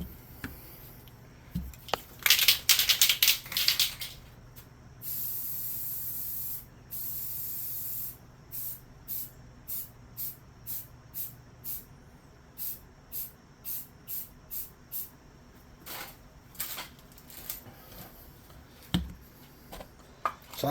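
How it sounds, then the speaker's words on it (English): A rattle can sprays flat black paint in a series of bursts: a few quick hisses, two longer sustained sprays, then a rapid string of short even puffs and scattered final bursts, all close and clear. "I got a rattle can here."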